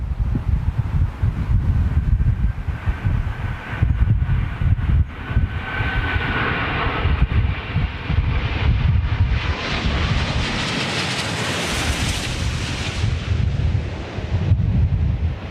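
Airliner jet engines spooling up as the outboard engines take power, a loud roaring rumble with a rising whine that swells and broadens partway through, heard outdoors from a distance with wind noise.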